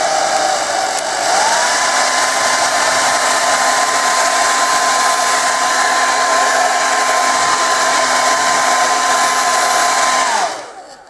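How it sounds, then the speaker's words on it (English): A hair dryer drying a watercolor painting blows with a steady, loud whine and rush of air for about ten seconds, then switches off and winds down. "and then I'm going to do this with a hairdryer."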